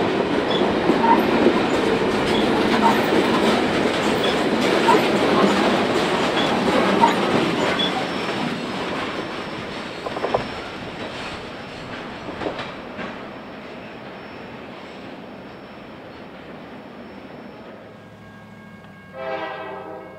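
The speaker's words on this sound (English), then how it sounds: "A westbound passes through Logan Park Assembly's parking lot with a former Southern Pacific Tunnel motor in the lead." A westbound freight train led by a former Southern Pacific Tunnel Motor diesel locomotive rolls past a car assembly plant parking lot, a loud steady rumble of passing cars that fades toward the end, with a brief horn-like tone near the close.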